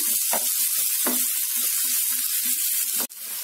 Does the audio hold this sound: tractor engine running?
no